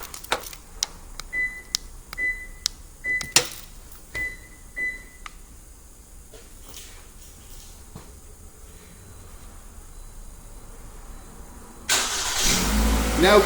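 A 2013-2018 Toyota RAV4 push-to-start remote started: a series of sharp beeps and clicks over a quiet idle hum, then the engine cranks and catches with a loud rushing roar at the end.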